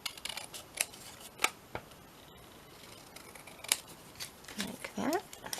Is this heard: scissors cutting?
yes